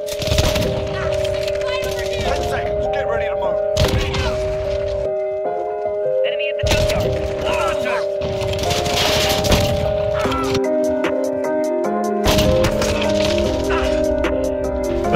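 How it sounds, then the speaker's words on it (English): Gunfire and explosions in the Modern Warfare 2 video game: rapid bursts of shots and blasts, loud and close, repeating over a steady droning tone, with voices talking throughout. "There's a lot of explosions going on right now"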